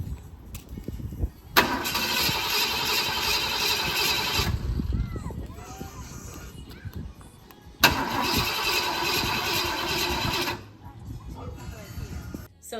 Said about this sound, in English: You can start the car up.